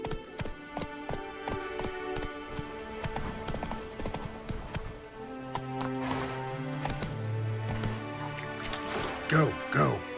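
Geralt's horse Roach galloping in The Witcher 3 video game, steady rhythmic hoofbeats clip-clopping close by with game music and ambient effects layered over them, and a voice speaking briefly.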